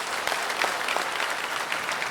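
A crowd at a launch control centre applauds after the Shenzhou-20 crewed mission is declared a success: a continuous, even wash of many hands clapping, with no voices heard.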